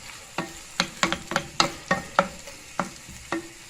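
Garlic, ginger and onion sizzle in a pan for a homemade vegetable curry as a wooden spoon scrapes and stirs in about a dozen sharp, irregular strokes over a soft frying hiss, close by with no talking.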